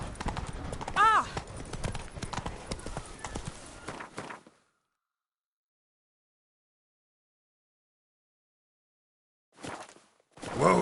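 Roach the horse's hooves clip-clop in a steady walking rhythm in The Witcher 3, close and clear for several seconds with a short snort, then silence, then a brief return of hoofbeats.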